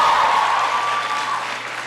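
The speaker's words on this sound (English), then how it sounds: "Give her a big round of applause." A large audience applauds for Mayor Muriel Bowser during a presidential speech on graduation rates, a dense, loud wash of clapping that slowly eases in level over a couple of seconds.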